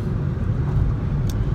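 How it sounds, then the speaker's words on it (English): Steady low road rumble and engine drone from inside a moving car heading toward the city, loud and continuous with no talk. "I'm in the car on my way to the city"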